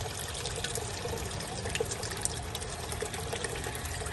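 Water running steadily through a Mikron gold prospecting machine, a close continuous trickling wash with small splashy flickers and no voices.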